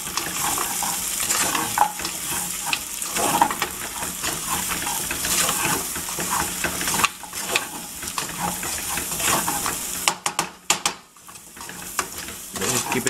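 Garam masala, dried ginger and pepper powder are stirred into paya frying with garlic in a pan, a busy sizzle with repeated scraping stirs and a few clattering knocks near the end.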